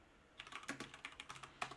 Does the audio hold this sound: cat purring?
no